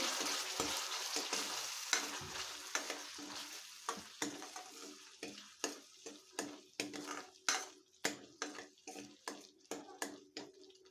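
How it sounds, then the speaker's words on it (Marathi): Spice paste for a cauliflower dish stir-fried in a pan, a steady run of rhythmic spatula scrapes and clanks against the metal over a soft sizzle, fairly close. "याच्यामध्ये पेस्ट बनवून घालायचे आहे व्यवस्थित परतून घ्यायची पेस्ट"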